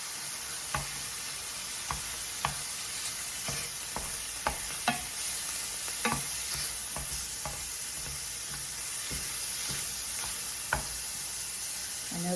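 Meat fries in a pan, a steady bright sizzle running throughout with scattered scraping and tapping knocks as a utensil chops and stirs it, no voices.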